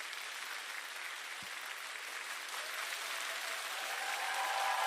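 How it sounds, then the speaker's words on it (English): A canned applause effect plays on its own as a dense, steady wash of clapping from a crowd, holding level and swelling slightly near the end. "Do I got some sort of applause?"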